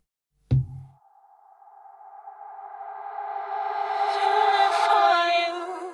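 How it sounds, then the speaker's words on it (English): A reversed reverb effect on a sample in a Maschine setup: after a sharp initial hit, a tonal reverb tail swells gradually backwards, growing louder and brighter before cutting off at the end. "you need to first reverse the sample, apply reverb, then resample it, and then reverse it again"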